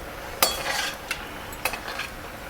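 Potato kachori dropped into hot oil in a kadhai, soft bubbling sizzle with a few sharp clinks and splashes as pieces go in and are stirred, fairly quiet and without talk.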